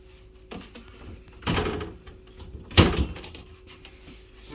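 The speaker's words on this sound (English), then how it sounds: "we're going to take the drawer out." A wooden drawer slides out of a kitchen base cabinet with two soft scraping thumps and a sharper knock, heard close in a quiet room.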